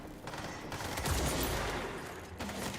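Enemy gunfire in the game Control: a brief, dense clatter of shots, fairly loud and steady, set against a background hum.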